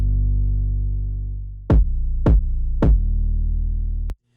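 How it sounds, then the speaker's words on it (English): An 808 bass and kick drum sound together in a rap mix, with a long sustained low bass tone broken by three sharp, punchy kick hits before it stops abruptly. No talking over it. "When I listen to the 808 and the kick, it sounds like this."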